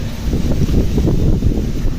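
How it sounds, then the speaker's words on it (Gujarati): Loud, low rumbling wind buffeting the microphone close up, constant and roaring with no voices. "ફૂલ પવન સાથે વાવાઝોડું આવી રહ્યું છે"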